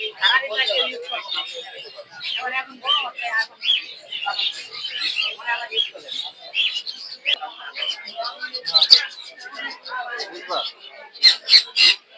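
Caged birds, including king quail, chirp and tweet in a busy row of calls at the Mirpur bird market, with crowd chatter and voices mixed in throughout.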